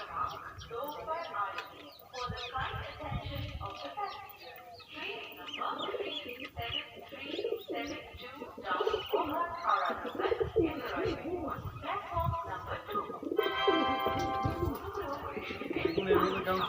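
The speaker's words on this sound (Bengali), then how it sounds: "দেখুন এর মধ্যে কেমন পায়রা ঢুকে খাবে" Pigeons coo and chirp in a busy flock, many overlapping calls close by, while a person keeps calling out to them over the birds.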